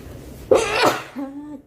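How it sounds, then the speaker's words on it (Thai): A woman sneezes once, a sharp burst with a short sharp intake before it and a brief voiced trailing sound after, close and loud. "จามละ"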